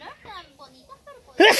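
Someone speaks briefly in Spanish over faint kitchen sounds, then a single sharp, loud sneeze bursts out close at the end.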